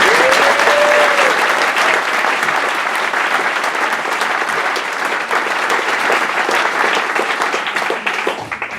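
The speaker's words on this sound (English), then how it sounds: "Can we have just one more big round of applause for all the award recipients?" Audience applause for award recipients at the West Seattle Chamber of Commerce Westside Awards Breakfast, 2015: a loud, dense, sustained round of clapping that holds steady throughout and tapers slightly at the very end.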